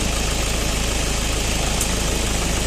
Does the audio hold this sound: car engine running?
yes